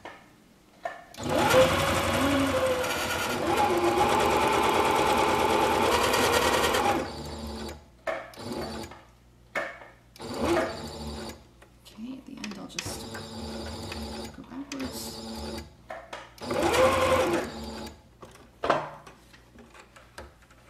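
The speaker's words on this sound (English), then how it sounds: "I'm just gonna start sewing up the edge now" Sewing machine stitching along the raw edge of a throw pillow cover made from a tablecloth, a loud steady run of about five seconds followed by several short bursts of back-stitching, close up.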